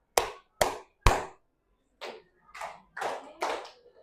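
Children's hand claps ring out close by in a classroom game: three sharp, evenly spaced claps, a pause, then four softer claps in quicker succession.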